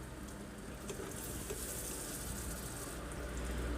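Caramel sauce of caramelized sugar, butter and a spoonful of cream bubbling in a pan, a soft steady sizzle and simmer with faint popping that holds even and close throughout, no voices.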